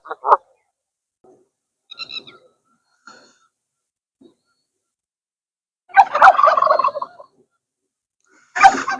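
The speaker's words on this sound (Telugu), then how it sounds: "పక్షుల సౌండ్స్ ఎంత బాగా అనిపిస్తున్నాయి తెలుసా" Bird calls at a lake in Dubai in the early morning, brief gobbling and croaking bursts separated by long quiet gaps, louder clustered calls toward the end.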